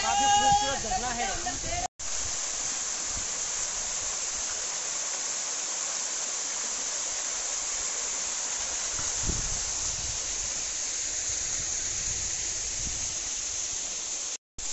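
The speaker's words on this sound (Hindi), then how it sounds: "और ये मज़ा ले सकते हो झरने का, काफ़ी खूबसूरत झरना है।" A scenic waterfall beside a cave roars with a constant, even hiss of falling water, close and unbroken except for two brief dropouts.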